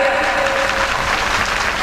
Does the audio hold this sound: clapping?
yes